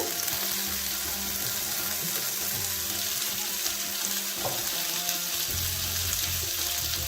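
Tomatoes fry in a pan with a steady, close hiss of sizzling oil, with a few faint clinks of a utensil partway through.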